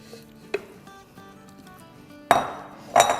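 A blender jar being handled as half a kilo of washed, medium-cut chicken breast pieces goes in, with quiet clinks and two sharper knocks of hard jar contact, no talking.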